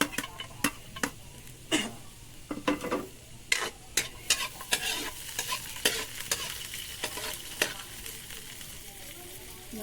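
Meat sautéing with onion and garlic in a pan, a steady sizzle broken by repeated scraping stirs and clinks of a utensil against the pan, close and moderately loud with no talking.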